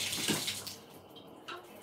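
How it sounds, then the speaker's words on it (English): Water from a home shower runs in a steady hiss just after being turned on, fairly quiet and close, with no talking. "So basically, I'm going to turn on my shower."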